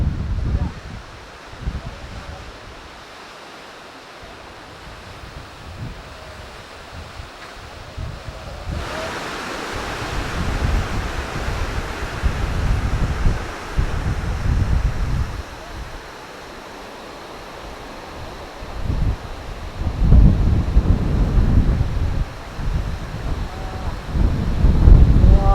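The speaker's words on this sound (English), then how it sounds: "The biggest waterfall I ever seen in my life." A large Himalayan waterfall roars as a steady broadband rush, swelling louder about halfway through and surging again near the end, with gusty low rumble that may be wind.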